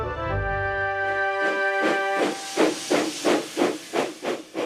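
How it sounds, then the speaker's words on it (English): A cartoon steam engine from Thomas & Friends hisses out a long, loud burst of steam, then settles into a steady rhythmic puffing of about eight chuffs, with no voices. "When Henry thinks, he puffs out a cloud of steam."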